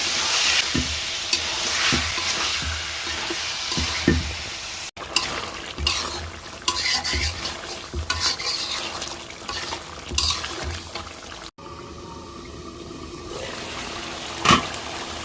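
Country chicken curry masala sizzles and is stirred in a pan with oil, spices, onion and turmeric, giving steady frying crackle and scraping strokes, broken by brief cuts and a quieter stretch near the end.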